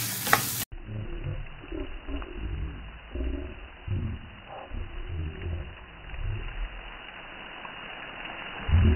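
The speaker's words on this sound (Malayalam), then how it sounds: "ഇഞ്ചി നമുക്ക് നന്നായിട്ട് ഇളക്കി കൊടുക്കാം. ഒരു ബ്രൗൺ, കുറച്ച് ബ്രൗൺ കളർ ആവുന്നത് വരെ നന്നായിട്ട് ഒന്ന് ബ്രൗൺ" Chopped ginger sizzles and fries in a pan for a Kerala inji curry, a steady close hiss with rhythmic scraping as it is stirred.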